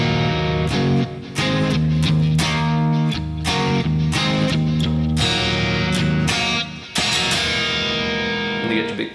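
Distorted electric guitar plays the aggressive third section of a song from the Twister soundtrack, with loud chugging power chords in a driving rhythm, brief stops, and a closing burst.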